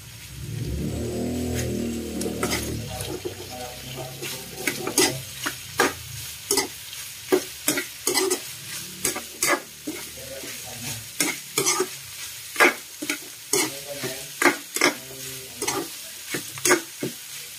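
A spatula stirs pork innards for Ilocano-style dinuguan in a sizzling pan: a steady fry hiss at first, then a run of sharp, regular scraping strokes against the pan, close and loud, with no talking.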